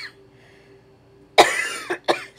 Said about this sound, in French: Petite toux persistance depuis la COVID